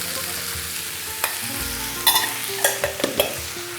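Chickpeas and green beans fry in butter, a low continuous sizzle under a faint hum, with a few sharp clicks and scrapes of a utensil near the end.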